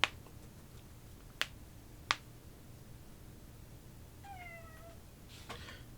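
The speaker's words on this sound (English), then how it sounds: "My cat is being needy." A pet house cat gives one short, faint meow in a quiet indoor room, preceded by a few sharp clicks like finger snaps, with no talking.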